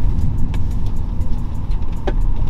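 A turbocharged 2018 BMW X4 engine hums loud and close with a rough low growl, holding steady with faint clicks over the drone.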